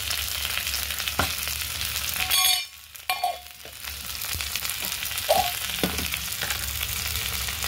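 Fenugreek greens fry in a pan while being stirred, a steady close sizzle broken by a few scraping clinks and knocks of the stirring utensil.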